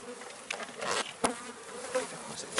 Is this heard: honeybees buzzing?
yes